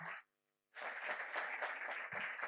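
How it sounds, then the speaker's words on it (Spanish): A conference audience bursts into applause to welcome a speaker to the podium, a dense, steady patter of many hands that starts abruptly after a brief silence and continues evenly throughout. "al que ya vamos a recibir con un fuerte aplauso"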